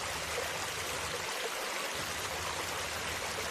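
The Nglirip waterfall pours as a steady, broad rush of flowing water, a continuous hissing roar with no pauses and no voices.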